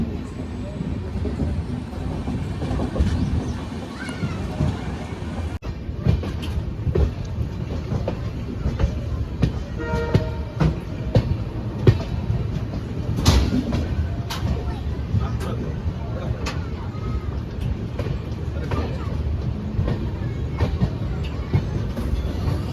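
Rumbling of an orange Nagpur Metro train passing at a distance with rolling wheel noise, under city background and intermittent voices nearby.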